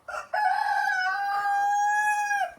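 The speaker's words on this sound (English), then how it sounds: "Mr. Big Rooster" A big, fat rooster on a homestead crows loudly and close by, one long sustained cock-a-doodle-doo held for about two seconds, with a short squawk just before it.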